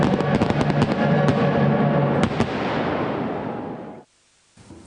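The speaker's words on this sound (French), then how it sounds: "Les feux d'artifice royaux et leur impressionnant bouquet final embraseront le Grand Canal" Royal fireworks finale over the Grand Canal at Versailles: a dense, loud barrage of rapid bursts and crackles that swells, then cuts to near silence before another burst.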